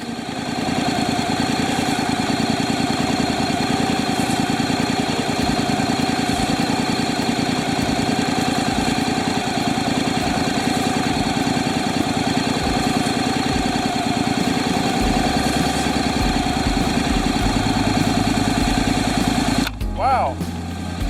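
A Honda DCT motorcycle idles in drive with a steady, even mechanical hum close by for a long stretch, then shifts in tone and stops abruptly near the end.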